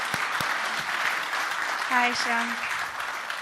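An audience at a keynote speech at the Gutter Summit claps steadily, filling the room with dense, even applause. Someone briefly speaks over the clapping.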